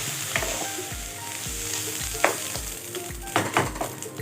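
Glutinous rice sizzles steadily as it is sautéed in a pan for Kapampangan bringhe, with soft rhythmic stirring scrapes every half second or so and a few sharper utensil clicks.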